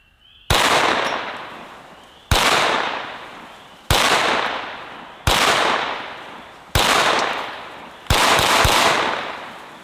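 Six sharp, loud gunshots from a Beretta CX4 Storm 9mm pistol-caliber carbine ring out one at a time at a slow, even pace, each crack trailing off in a long echoing decay, with no voices.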